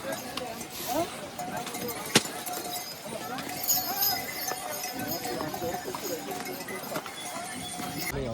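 Hooves of pack donkeys clip-clop on a rainy mountain trekking trail to Kedarnath, a light irregular clatter of steps mixed with faint clinks, heard under nearby voices talking throughout.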